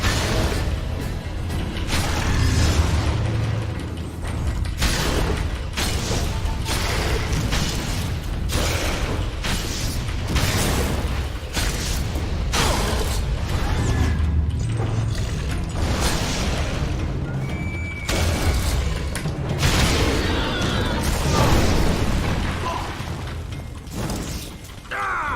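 Bombs going off in The Witcher 2: Assassins of Kings Enhanced Edition, heavy booming bursts repeating over dense, loud game noise with rumbling, crashing and mechanical clatter throughout.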